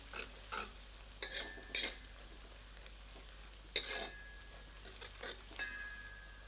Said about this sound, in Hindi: मध्यम आंच पर इसे 3 से 4 मिनट प्याज के साथ मिलाकर भूनते हैं।